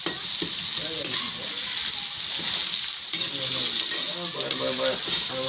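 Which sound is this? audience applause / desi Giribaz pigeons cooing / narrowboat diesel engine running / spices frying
spices frying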